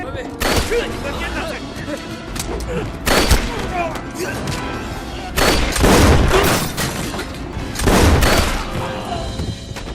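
Gunfire in a movie shootout: bursts of loud shots and booming impacts come in several clusters over roughly ten seconds, with a voice speaking between them.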